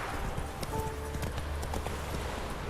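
A horse gallops at full speed along a trail during a horse race in the video game The Witcher 3, its hoofbeats a steady rapid clip-clop under constant game ambience, with no talk over it.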